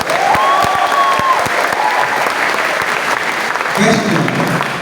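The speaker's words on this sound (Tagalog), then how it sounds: "Ganyan ba kayo pumalakpak kung first time kayo?" An audience at a motivational seminar bursts into loud, sustained applause, dense clapping close by throughout, with a voice briefly cutting in near the end.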